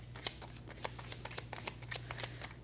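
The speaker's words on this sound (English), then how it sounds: "let's try to shuffle it another way" A deck of tarot or oracle cards is shuffled close by, with quick, soft riffling flicks in an irregular rhythm, quiet and without talk.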